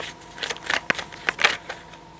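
Tarot cards are handled close up, with a few quick papery flicks and snaps as one card turns over, soft and brief.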